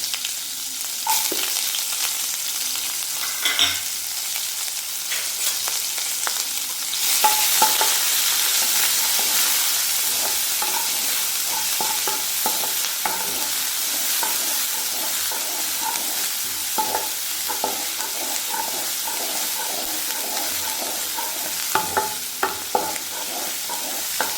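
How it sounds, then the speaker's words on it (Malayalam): Mustard seeds, onions and green chillies fry in hot oil for a yam flower thoran, a continuous bright sizzle with occasional pops and stirring scrapes, close and steady throughout. "ഇതിലേക്ക് സവാളയും പച്ചമുളകും കൂടി ഇട്ട് കൊടുക്കും"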